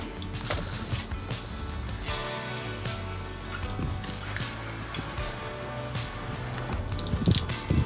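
Water rinses off a motorcycle in a steady splashing, spattering rush, close and fairly loud with no voices.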